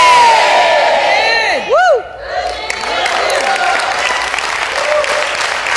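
A church congregation erupts in loud shouts of amen and cheering, voices rising together in an enthusiastic response, then continuing as a sustained murmur of cheers.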